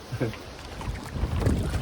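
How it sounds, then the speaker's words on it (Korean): A small boat glides over a calm lake in Finland's Lakeland with low rumbling and gentle lapping, wind buffeting the microphone throughout. "보트를 타고 호수를 한 바퀴 도는데"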